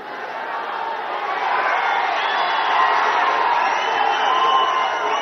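A large crowd of fans at an outdoor political rally in Dharmavaram keeps up dense, sustained shouting and cheering that swells slightly over the seconds, a roaring wall of voices.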